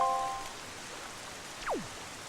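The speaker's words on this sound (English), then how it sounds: "amidst this horrible downpour" Steady hiss of heavy rain pouring down on Outset Island in The Legend of Zelda: The Wind Waker, a constant wash of noise with a short tonal chime at the start and a quick falling whistle near the end.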